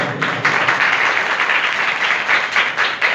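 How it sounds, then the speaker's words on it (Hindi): A church congregation at a Sunday meeting of a Pakistani ministry breaks into loud, hearty applause, a dense continuous wash of many hands clapping with slight surges, close and filling the room. "उस जिंदा खुदा के लिए जोरदार ताली"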